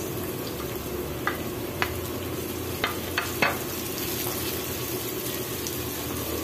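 Onion fries in a pan for adobo sa gata, a close, steady sizzle with a few sharp clinks and scrapes of stirring scattered through, no voices.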